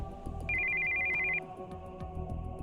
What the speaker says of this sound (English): we heard the sound of an incoming call on a cell phone.